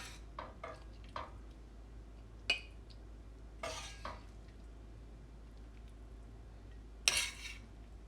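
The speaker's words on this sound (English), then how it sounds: "We're gonna be using a spoon to plate, and we have a deep serving dish that we'll be using." A spoon scoops and plates a spinach dish into a deep serving dish, making scattered light clinks and scrapes of metal on crockery spread over several seconds, fairly quiet, with no talking.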